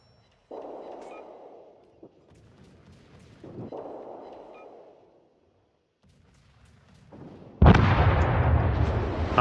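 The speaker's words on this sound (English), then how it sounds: "fire on the enemy warship." Naval artillery salvos fired at an enemy warship in World of Warships, heavy booming shots with rumbling tails spaced across the stretch, ending in a louder, sustained roar of gunfire.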